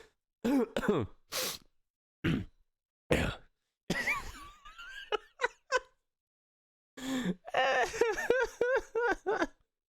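A man gives a few sharp, throaty coughs and throat-clearing bursts, close to the microphone. The bursts are separated by pauses and followed by a short run of breathy, giggling vocal sounds.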